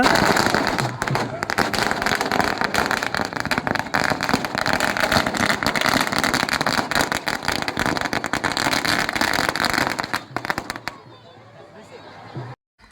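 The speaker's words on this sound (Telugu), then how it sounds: "ఈ టపాసులు పేల్చి ఇంకా స్టార్ట్ చేస్తారనమాట" Dense rapid crackling of firecrackers bursting nonstop for about ten seconds at a village fair chariot pulling, loud and close, with crowd noise underneath, then it cuts to quiet.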